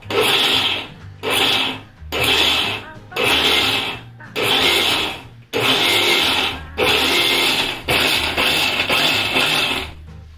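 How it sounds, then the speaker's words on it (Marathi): A mixer grinder crushes soaked wheat, switched on and off in about seven loud, close whirring bursts separated by short silent gaps. "त्यासाठी मिक्सर बघा नुसतं ऑन ऑफ करावा"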